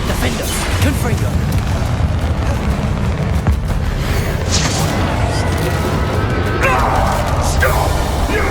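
Confringo and Bombarda spell blasts in Hogwarts Legacy, heavy booming impacts and crashing bursts over a dense, loud battle soundscape with a voice speaking throughout.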